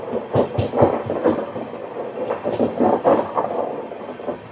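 A train starts moving out of Secunderabad station, with low rumbling and a series of uneven clanks and thumps from the couplings and wheels, moderately loud and close, without voices.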